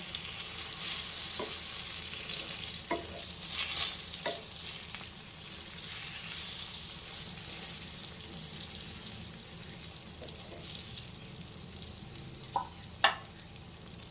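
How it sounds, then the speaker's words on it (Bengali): Eggplant slices frying in a pan, a continuous close sizzle with occasional crackles and stirring scrapes, steady throughout and with no talk over it. "এই বেগুন ভাজা, বেগুনটা কিন্তু শীত সিজনে বেশি পাওয়া যায়"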